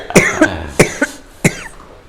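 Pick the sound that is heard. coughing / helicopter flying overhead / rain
coughing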